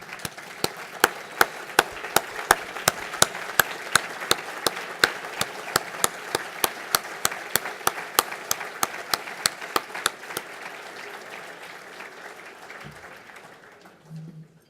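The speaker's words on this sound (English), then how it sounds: "giving them a standing ovation and a round of applause" A large dinner audience gives a standing ovation, with sharp claps falling into a steady rhythm for about ten seconds before the clapping fades away.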